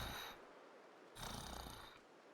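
A person imitates a cat's purr with their throat, making two soft, rumbling, snore-like bursts separated by a short breath, faint and close.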